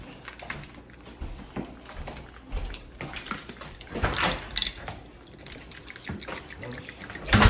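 Liquid and ice rattle inside a capped cocktail shaker as a margarita is shaken, a busy splashing, clattering rhythm at close range with irregular bursts and a louder jolt at the end.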